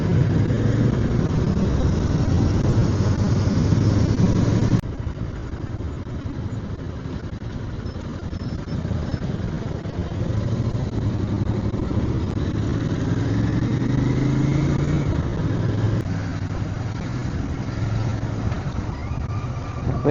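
A vehicle engine runs steadily in first gear at low speed on a road near Pavana Lake. The drone is continuous and moderately loud, with a small shift partway through and no talk.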